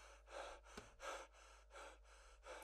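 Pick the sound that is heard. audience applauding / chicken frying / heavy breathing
heavy breathing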